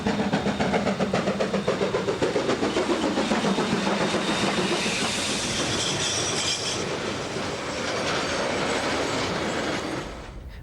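A New Zealand KA class steam locomotive train running on rails makes a loud, continuous rumble with a steady clickety-clack of wheels and a faint squeal, easing slightly near the end, with no voices.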